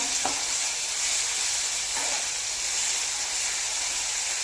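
Onions frying on a high flame for a liver fry, a steady loud sizzle and hiss with a couple of faint stirring clicks, no voices.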